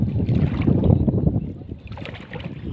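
Wind blows at sea near a boat during sea-urchin gathering, a loud rumbling gust that buffets the microphone with low roaring noise. It holds steady and eases slightly toward the end, with no talking.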